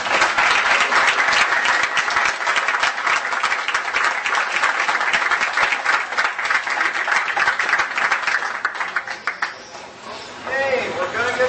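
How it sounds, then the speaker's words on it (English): Loud, dense applause from an audience after a Blessing of the Bikes gathering, sustained for about nine seconds before thinning out, with a voice starting to talk near the end. "Big round of applause again."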